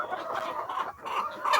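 Hens on a small poultry farm holding about 380 birds cluck steadily at close range, a dense overlapping flock chatter with no talk over it.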